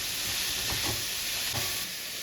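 Vegetables for pulao sautéing in a hot pan, a steady close sizzle and hiss with a few soft stirring scrapes.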